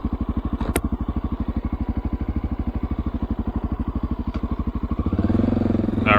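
A Honda XR650L dual sport motorcycle climbs a loose gravel hill, its engine thumping in a steady, close, rapid rhythm, then the revs surge louder near the end.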